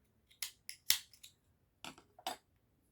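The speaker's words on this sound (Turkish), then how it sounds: "Şimdi bu ipimi kesiyorum." Scissors snipping yarn while crocheting a motif bag, several quick close crisp cuts in two short bursts separated by a brief pause, in a quiet room.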